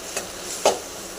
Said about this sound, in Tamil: பொடி ஊற்றிட்டு நல்லா நம்ம மிக்ஸ் பண்ணிக்கலாம்.